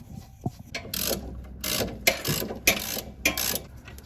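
Hand tools working to disconnect the e-brake on a Corvette C5 during torque tube removal, giving a series of close ratchet clicks and metallic clatter in irregular bursts.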